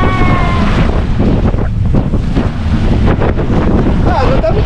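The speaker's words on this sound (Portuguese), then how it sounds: "tá muito vento." Strong, cold wind buffeting the microphone at a beach near Florianópolis, a loud continuous roar with surf and muffled voices underneath.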